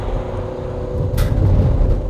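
A 2021 LDV Deliver 9 van with a 2-litre turbo diesel and six-speed automatic accelerates, its low engine rumble growing steadily louder and fuller toward the end.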